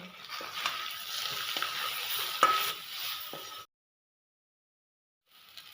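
A spoon stirs boiled taro with turmeric, chili and black pepper powder in a hot pan, giving a steady scraping and sizzling for a few seconds before the sound stops abruptly, with faint sizzle returning at the end.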